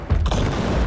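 A burst of heavy gunfire from War Robots: Frontiers booms loudly in a brief, dense, rumbling blast.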